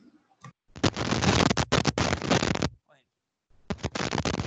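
Loud, dense bursts of crackling explosions fill most of the stretch, broken by brief gaps, with a faint voice in a quiet moment between them during an online class session.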